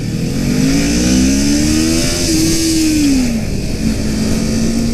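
A 2018 Kawasaki Ninja 400 motorcycle engine winding up steadily toward redline, loud and close, its pitch rising smoothly and then holding high with constant roar under wind noise.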